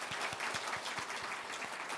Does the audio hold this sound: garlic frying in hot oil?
no